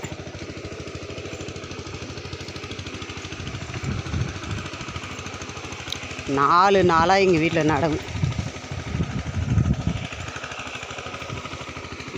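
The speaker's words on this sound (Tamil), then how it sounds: "சின்ன டிராக்டர் வச்சு ஓட்டுறாங்க" A small tractor working a flooded paddy field during transplanting drones steadily throughout, with a person speaking over it partway through.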